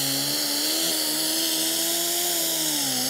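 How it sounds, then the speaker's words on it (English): A power buffer works polishing compound into a boat's gel coat, a loud continuous high-pitched motor whine with a steady pitch that dips slightly as pressure changes. "now we want to hit it with the buff"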